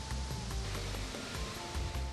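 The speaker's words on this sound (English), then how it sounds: "The Agbokim Waterfall, the eighth wonder of the world, with 7 separate falls" Rushing water at Agbokim Waterfall in Cross River State, Nigeria, a multi-fall cascade, heard as a steady, loud, broadband roar that continues without pause.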